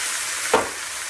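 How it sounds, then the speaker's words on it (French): Shallots and Brussels sprouts frying in a pan for a shrimp sauté, a close, even sizzle with one short stir scrape in the middle. "Je vais mélanger le tout."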